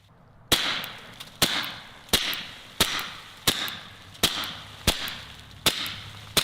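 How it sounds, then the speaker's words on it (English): Ten sharp, muffled gunshots fired at a steady, deliberate pace, each a crisp crack with a short fading tail, no talking. "you can still hear the bite of those gunshots, even though the suppressor is clearly reducing it"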